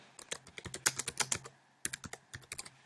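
Keys clatter in quick irregular bursts on a computer keyboard while HTML code is entered into a WordPress plugin file, with a short pause midway before a few more close, crisp keystrokes.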